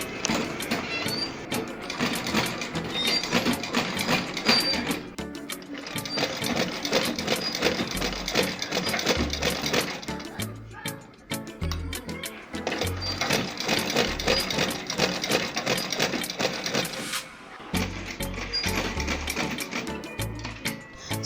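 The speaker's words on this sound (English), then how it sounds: "Now I'm going to sew on the first" Sewing machine stitching net ruffles onto a dress, running in long steady bursts of fast rhythmic mechanical chatter, close and loud, with brief pauses between runs and no talking.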